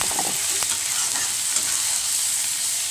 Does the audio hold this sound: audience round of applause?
no